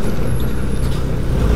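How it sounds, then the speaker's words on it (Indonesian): A Setia Usaha bus passes fast on an uphill road in Tawangmangu, giving a loud, close, continuous engine and road rumble with a faint high whine and no voices. "Ini ada bis Setia Usaha. Waduh itu kencang banget itu bisnya."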